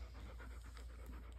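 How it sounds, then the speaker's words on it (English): A new puppy pants quickly and steadily right at the microphone, soft rhythmic huffing breaths over a low indoor hum, with no talking. "This is our new puppy."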